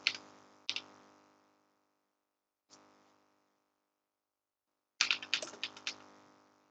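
Computer keyboard typing on Windows, short bursts of clicking keystrokes separated by silent gaps: a quick pair, a single tap, then a faster closing run, close and fairly quiet.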